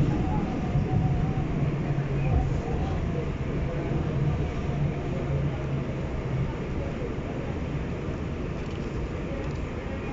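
An R211 subway A train riding toward Far Rockaway, a steady low rumbling ride noise with rhythmic rattle throughout, while a voice talks over it.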